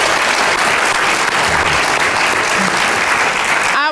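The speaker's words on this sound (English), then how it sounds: "Let's give them another round of applause." A large audience at a leadership townhall meeting claps in loud, sustained applause that fills the room evenly, with a murmur of crowd voices underneath.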